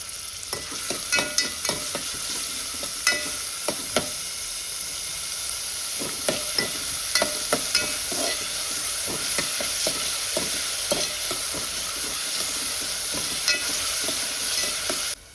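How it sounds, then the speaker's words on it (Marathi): Finely chopped onion fries in hot oil in a pan for a catfish curry, giving a steady close sizzle with repeated stirring scrapes and clicks throughout. "आनी बारीक कांदो कातरला तो घालता"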